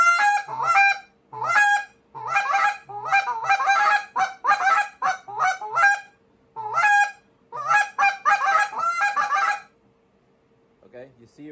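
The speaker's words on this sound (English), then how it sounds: "I didn't really pause, but I like kind of slowed down and I did a couple like really powerful clucks" Goose calls from a contest routine ring out loud and close in rapid, honking cluck bursts, several runs of quick notes separated by short pauses, with a few powerful clucks, ending in quiet.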